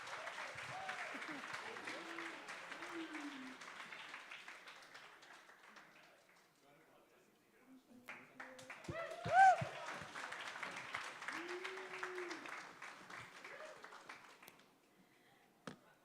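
Audience at a student community awards ceremony gives a round of applause that fades out mid-way, then picks up again with a louder burst, with voices talking through it.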